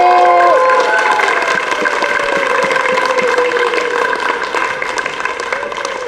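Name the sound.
audience applause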